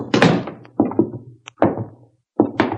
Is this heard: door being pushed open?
yes